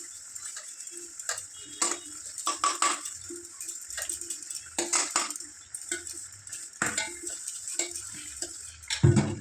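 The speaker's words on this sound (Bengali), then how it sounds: "এবার আস্তে আস্তে করে আমি নেড়ে দেবো" A spoon or ladle stirs loach fish curry in a pot, making scattered metallic clinks and light scrapes at an uneven pace, close and moderately loud, with no talking.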